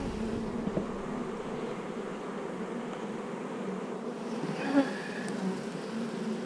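Honey bees crowd a hive frame holding brood, their buzzing a steady, moderately loud drone near at hand, with a few louder passes and no talking.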